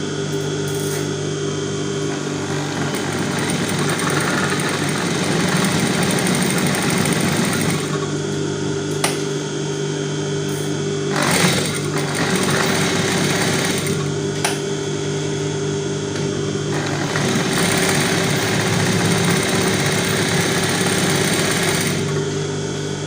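A pedal-operated sewing machine runs slowly and steadily while stitching along a shoe edge, a continuous close mechanical whir and hum with small rubbing clicks, no voices.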